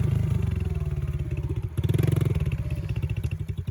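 A small pit bike engine runs loud and close during a muddy timed challenge, with a steady throbbing rumble that briefly dips, then surges again with revving pulses.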